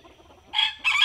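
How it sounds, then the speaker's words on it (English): Chickens, Silkies and Golden Sebrights, on a working backyard chicken farm with coops and runs: two close, loud bursts of squawking clucks in quick succession. "this is a working real chicken farm"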